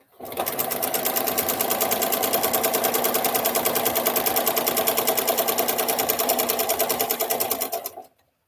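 A sewing machine runs continuously for about eight seconds, sewing quarter-inch seams on quilt pieces for a veterans flag quilt. The buzz is loud, close and steady, with a fast regular stitching rhythm and no talk over it.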